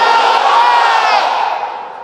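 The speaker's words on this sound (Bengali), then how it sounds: "এই কথার পক্ষে যারা, তারা তাকবীর দেন, লিল্লাহে তাকবীর।" At an outdoor Islamic sermon gathering in Mymensingh, a large crowd answers the preacher with a loud, unified shout of takbir. The massed chant holds for about two seconds and then fades.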